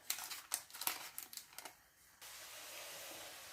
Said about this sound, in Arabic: ومن بعد نقلعو الورق